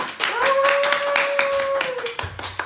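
Clapping welcomes a guest actor at the start of a casual vlog-style Q&A, with sharp hand claps under a sustained whistle-like tone and some voices.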